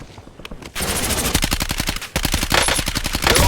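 MPC-25 gunfire in Warzone, the Heaven's Hollow map: rapid automatic bursts of close, loud shots in fast rhythmic strings with brief gaps between them, no talk.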